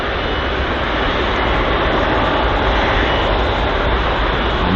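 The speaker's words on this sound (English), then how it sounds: "the Air Canada with sunglasses on, just taxiing in front of us now" Loud, steady jet engine roar from an Air Canada airliner taxiing at London Heathrow, a dense continuous rumble and hiss that holds unchanged throughout with no voices.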